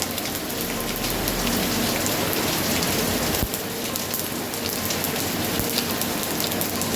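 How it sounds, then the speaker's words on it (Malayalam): Heavy rain pours steadily and loudly, a dense, continuous hiss of drops drumming on surfaces with no pauses. "ഭയങ്കര മഴയാണ് അതിൻ്റെ ശബ്ദം കേൾക്കണേ"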